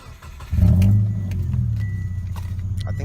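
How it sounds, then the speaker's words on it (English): Loud engine of a Saab-Subaru hybrid car (Saabaru) starting up and running, a big low rumble that swells at once and then settles into a steady heavy idle close by, with a faint jingle of keys. "I think I got the loudest car in the neighborhood"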